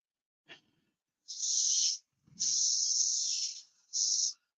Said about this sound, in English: I'm just going to have to use a bit of 400 sandpaper